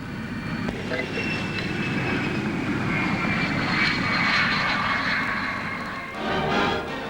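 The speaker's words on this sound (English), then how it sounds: "Coming in to land low and fast, the pilot uses a tail parachute to act as a brake" An experimental Flying Triangle research aircraft comes in to land low and fast with a tail braking parachute, its engine roar loud and continuous, swelling toward the middle before easing off.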